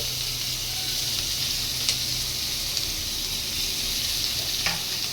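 Chopped onion frying in oil with garam masala gives a steady, close, hissing sizzle throughout, broken only by a few faint stirring ticks, with no speech.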